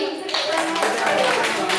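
A small group claps for group 7 at a community session on reproductive health and stunting for soon-to-be-married couples, brief and close, with a voice talking over it.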